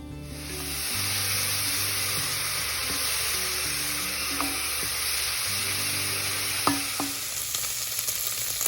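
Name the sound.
bacon frying and being stirred in a pan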